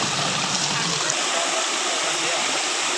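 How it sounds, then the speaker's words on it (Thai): Steady broadband rush of a waterfall and flowing stream, loud and continuous, with a voice briefly audible at the start. "เจอน้ำตกด้วย"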